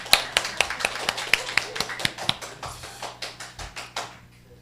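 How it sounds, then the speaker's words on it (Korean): A church congregation gives a short round of applause: sharp, distinct hand claps from a modest group in an uneven rhythm that thins out and fades over a few seconds. "박수 한번."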